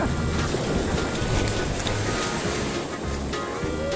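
Sea surf washes onto a beach at a resort in Chanthaburi, a loud, steady roar of breaking water with wind buffeting the microphone throughout.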